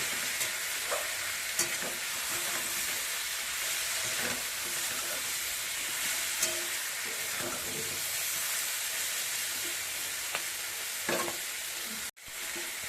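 Beans, potato and eggplant with chili powder, turmeric and salt being stirred in a hot pan, a steady close sizzle with scraping spoon strokes throughout, a brief gap near the end.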